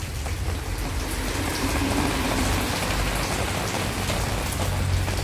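Steady rain falls by the sea at a beach hotel in Pescara, Abruzzo, Italy, a dense continuous patter of drops on surfaces with a low wash underneath, even and unbroken throughout with no voices.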